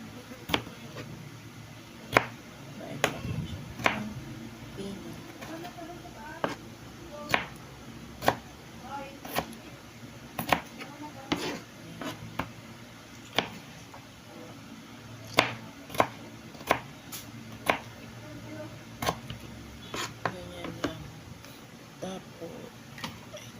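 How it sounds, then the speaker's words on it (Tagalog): Onions are chopped on a board with irregular sharp knife knocks spread throughout, some in quick runs and some spaced apart, while a person talks intermittently nearby. "Sibuyas, hawain natin"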